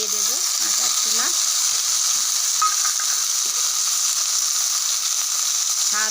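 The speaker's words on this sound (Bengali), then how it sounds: "কুমড়োটা ভালো করে ভাজা হয়ে গেছে, এতে এবার এই ছোলাটা দিয়ে দেব, কাঁচা ছোলা" Pumpkin and raw chickpeas fry in a pan with a loud, constant hissing sizzle, with a few brief higher chirping sounds early on.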